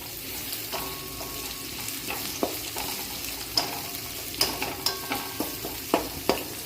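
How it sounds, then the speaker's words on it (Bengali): Finely chopped onion fries in a pan for egg fried rice, a steady close sizzle punctuated by irregular knocks and scrapes of a stirring spoon, with no voices. "পেঁয়াজটা দিয়ে দিচ্ছি"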